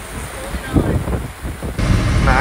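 Hurricane-force wind gusting over a sailboat at sea in the Caribbean, a loud rushing roar buffeting the microphone, with a voice speaking briefly over it.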